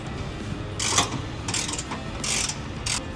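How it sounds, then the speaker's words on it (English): A ratchet wrench turning 15mm and 21mm bolts on the rear bumper and hitch assembly of a 2009–2018 fourth-generation Ram pickup, with several short bursts of fast clicking ratcheting separated by brief pauses. "We need to remove these 2 15mm bolts on the bumper, and then these 2 21mm bolts that are on the hitch assembly."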